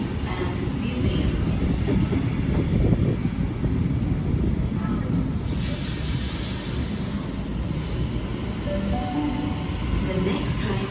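A Sydney Trains Tangara set on test with technology upgrades rumbles steadily through Central station, a continuous low rolling roar with faint wheel clatter and a brief brighter hiss midway, busy platform ambience underneath.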